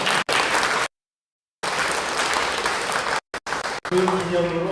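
An audience at a humanities lecture breaks into loud, dense applause in bursts separated by abrupt silent gaps, with a voice rising at the end.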